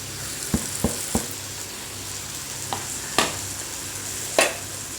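Masala for chicken curry is stirred and fried in a pan, with a soft steady sizzle under several sharp scraping knocks of a spoon against the pan.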